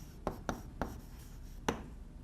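Chalk or marker tapping and scratching on a board as math is written during a lecture on the Lyapunov theorem, four short, crisp strokes at uneven intervals, fairly faint and close.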